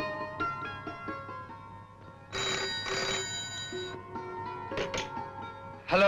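A telephone rings with repeated bright electronic trills, including a louder burst in the middle, heard alone with no talking.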